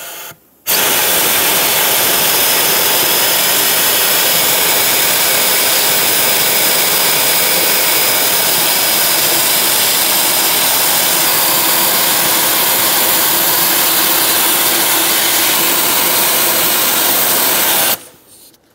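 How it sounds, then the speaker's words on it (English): Shop vacuum roaring steadily and loudly, drawing debris out of the engine valley of a 2014-2018 Chevrolet Silverado 1500 5.3L V8 during fuel pump work, starting abruptly and running alone for about seventeen seconds before cutting off. "I'm going to use a vacuum and vacuum up any debris that's sitting in this valley."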